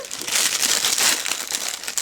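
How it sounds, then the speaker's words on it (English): A plastic bag wrapped around a Kelly-style handbag, inside a dust bag during an unboxing, crinkles in quick, close, bright rustling bursts for about two seconds. "inside the dust bag, I have another plastic bag that the bag is in"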